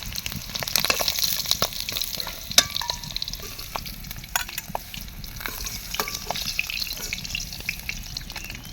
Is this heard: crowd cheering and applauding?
no